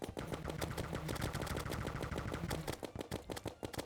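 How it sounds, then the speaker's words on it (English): Rapid turret gunfire in modded Terraria, a steady stream of quick repeated shots rattling like a machine gun for several seconds, fairly quiet, with no voices over it. "That is an insane turret."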